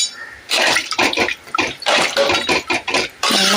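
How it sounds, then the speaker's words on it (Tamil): Water is poured into mutton curry (mutton kulambu) in a pot, a close, loud splashing stream that comes in several surges with short dips between them. "குழம்புக்கு தேவையான அளவுக்கு தண்ணி ஊற்றிக்கலாம்."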